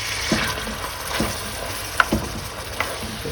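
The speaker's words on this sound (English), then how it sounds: "And now we are adding the water." Water goes into a pot of cooked beans for Neapolitan pasta e fagioli, a close, continuous splashing hiss with a few clinks and sharp ticks of the pot, no voices over it.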